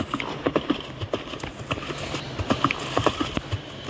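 Horse hooves clip-clop in a Roblox castle-escape game, a quick, uneven run of hollow knocks repeating throughout, fairly close and clear.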